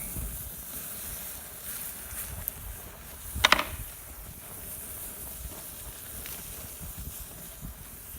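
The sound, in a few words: buttered sandwich sizzling on a grill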